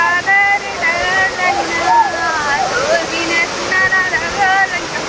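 A waterfall drops from high up a mountain, its constant rushing roar sitting under excited chatter and calls from several nearby people.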